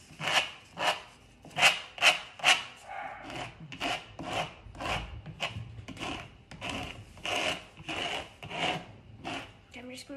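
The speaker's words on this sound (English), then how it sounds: "use your scraper to drag it in a bit off the edges so that it's not just like a frame" A paint scraper drags thick paint across a canvas for a textured abstract, making repeated rasping strokes in a steady back-and-forth rhythm, close and moderately loud.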